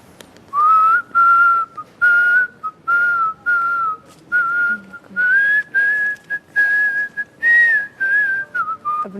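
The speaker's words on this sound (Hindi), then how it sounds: "अपनी सीटियाँ बंद करो" Several people whistle in loud, sustained bursts, a steady tone that rises slightly and is broken into repeated short phrases with brief gaps, no talking.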